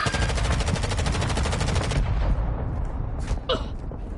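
Gunfire in Call of Duty: Modern Warfare 2, a loud sustained automatic burst for about two seconds, then quieter sporadic shots with a brief spoken callout.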